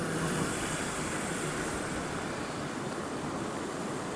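Floodwater roars beneath the Jhankarpali river bridge, running only a few feet below the deck, a loud, continuous broadband rush that holds steady throughout with no voices.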